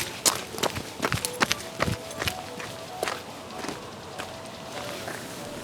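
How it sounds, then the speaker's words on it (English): A string of footsteps picked up from a distance by a Deity V-Mic D4 Duo microphone, quick irregular taps that start crisp and dense, then thin out and grow softer. "record sound effects like footsteps or clothing movement from this far away"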